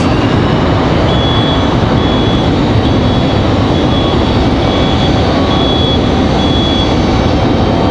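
A CRJ regional jet taxis at Raleigh-Durham International Airport, its steady, loud engine roar filling the air continuously, with a faint intermittent high beep threading through.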